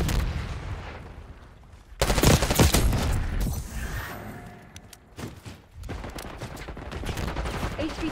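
Gunfire in the video game Call of Duty Black Ops 6, multiplayer on the Derelict map with an MP5, loud bursts of rapid automatic shots in several clusters with quieter gaps between them.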